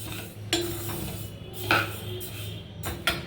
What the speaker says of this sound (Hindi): तो हमें बिल्कुल धीमी आंच पे बहुत ही हल्के हल्के से इसे हमें भून लेना